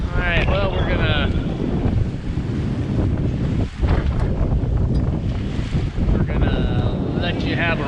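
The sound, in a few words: sailboat moving through choppy waves with wind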